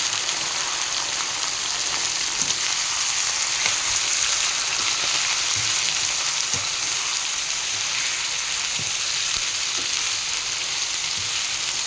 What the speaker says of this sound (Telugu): ఆనియన్స్ మంచిగా ఫ్రై అవ్వాలి. ఫ్రెష్ చేసుకున్న కీమాని ఇందులో వేసుకోవాలి.